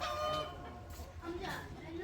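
Chickens in a rural yard give faint, soft clucks and short calls against a quiet background, with people talking nearby.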